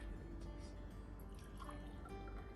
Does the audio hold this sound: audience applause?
no